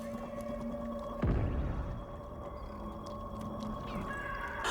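A cat meows in Bungie's video game Marathon, one short, falling meow rising briefly above a faint, steady hum of game ambience, with a few soft clicks afterward.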